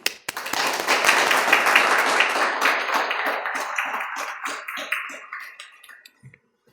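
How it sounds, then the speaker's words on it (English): An audience at a military change of command ceremony welcoming the new commander of the 48th Dental Squadron bursts into dense applause that holds steady, then thins into scattered individual claps before dying away. "Thank you very much for the very kind applause."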